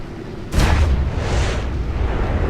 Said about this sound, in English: The guns go off.